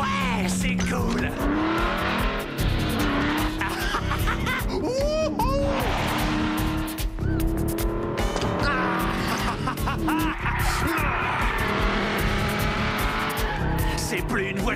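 A racing car driven hard, with repeated sharp tire squeals and skids over a roaring, revving engine, loud and close, while voices talk over it.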